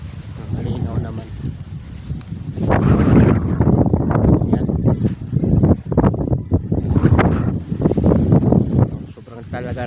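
Strong wind from Typhoon Opong buffets the microphone in loud, rumbling gusts that rise and fall, with a voice briefly heard under the roar.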